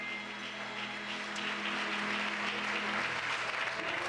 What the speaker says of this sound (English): clap those hands and praise Him once again